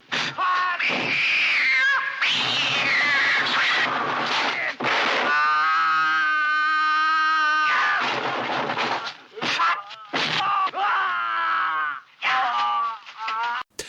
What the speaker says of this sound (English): this is my girlfriend's Bengal cat greeting me when I visit her